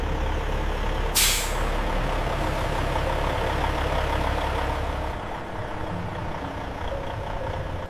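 A refrigerated truck for dairy transport runs with a steady engine rumble, then lets out one sharp hiss of air brakes near the start before the engine note drops slightly and idles on, loud and close.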